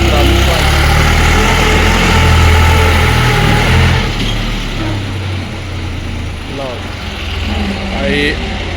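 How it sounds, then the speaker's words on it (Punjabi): A tractor's low, rumbling engine idles steadily and loudly up close, with a faint whine and a few brief background sounds toward the end. "ਟਰੈਕਟਰ ਲਓ ਜੀ ਟਰੈਕਟਰ ਹੋ ਗਿਆ ਬੰਦ"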